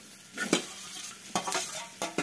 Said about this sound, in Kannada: ಉಳ್ಳಾಗಡ್ಡಿ, ಹಸಿಕಾರ ಮತ್ತು ಅರಿಶಿನ ಹಾಕಿ ಒಗ್ಗರಣೆ ಫ್ರೈ ಆದಮೇಲೆ